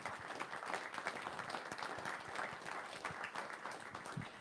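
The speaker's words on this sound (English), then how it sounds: "And please give Royce a round of applause this evening." An evening audience at a book talk gives a round of applause, a steady, fairly faint wash of clapping that continues throughout without pause.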